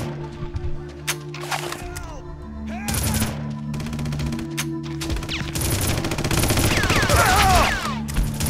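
Gunfire in the Red Faction shooter game rattles in rapid automatic bursts over a droning in-game background, with crackling debris, growing denser and louder toward the end.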